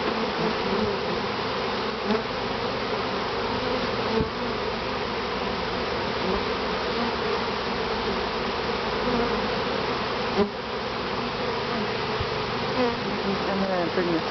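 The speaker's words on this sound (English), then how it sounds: "you just kind of see all the bees flying around" Bees swarm around an opened top bar hive during a honey harvest, giving a dense, continuous buzz close by with a few soft bumps and rustles.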